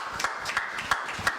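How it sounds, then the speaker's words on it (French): Congregation in a church clapping at an Easter service, a steady rhythmic handclap with about five even beats, moderately faint and reverberant, without voices. "Acclamons pour la parole de Dieu."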